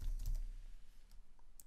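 Typing on a computer keyboard while adding text in Adobe XD: a short burst of soft, faint keystrokes, the clearest near the start and another at the end, with no voices.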